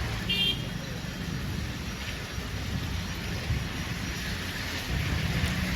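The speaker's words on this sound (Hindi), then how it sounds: "तो देखिए, झमाझम बारिश से मौसम बदला है।" Heavy rain shower during a storm in Ranchi, Jharkhand, a dense steady hiss of downpour with low rumbling underneath, constant and fairly loud throughout with no voices.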